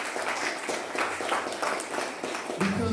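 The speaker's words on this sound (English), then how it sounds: "She should get another round of applause for that." An audience at a Kwanzaa celebration night bursts into applause, a dense, steady wash of clapping from a crowd in a room, moderately loud, with a brief voice near the end.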